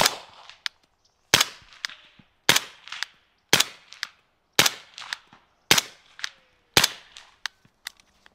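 Suppressed subsonic gunfire from a personal defense weapon, likely 300 Blackout: about eight sharp, quiet cracks spaced roughly a second apart, each with a short decaying tail, alone with no talk.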